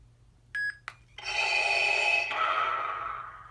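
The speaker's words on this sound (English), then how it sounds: "hold the auxiliary button until it beeps, and then release" A short electronic beep rings out from a custom lightsaber, followed by a click and then a sustained humming tone that shifts pitch and slowly fades.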